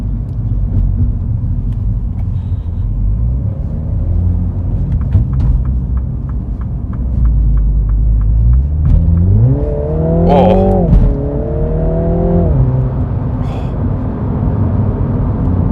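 A Mini John Cooper Works GP3 hatchback engine revs up steadily on a track lap, its pitch climbing through the gears of its 8-speed automatic as it accelerates, then easing slightly, loud and close with road rumble underneath.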